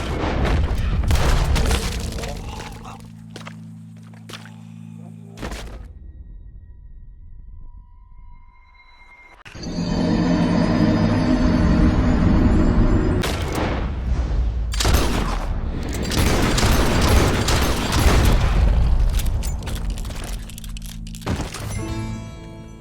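Gunfire in a Red Dead Redemption game scene, heavy thudding booming shots in loud bursts separated by a quiet gap, with shattering crashes and dense game noise.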